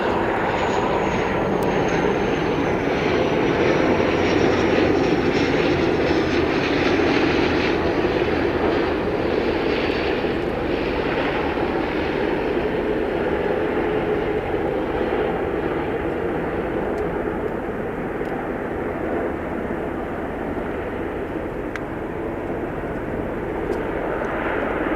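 A fixed-wing airliner approaching to land at Aberdeen Airport, its loud, steady jet engine roar filling the air throughout and easing slightly as it passes.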